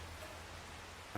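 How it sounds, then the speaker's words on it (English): Rain in a farming video game, a soft, even hiss of steady rainfall with one brief knock near the end, fairly quiet, with no talking. "Starting to rain again."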